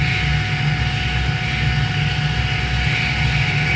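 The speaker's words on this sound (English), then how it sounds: "Airplane is descending rapidly," Jet engines of an Airbus airliner in Flight Simulator 2009 drone steadily in a simulated rapid descent with spoilers extended: a constant, close, loud whine and rumble without speech.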